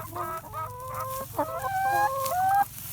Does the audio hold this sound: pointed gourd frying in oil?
no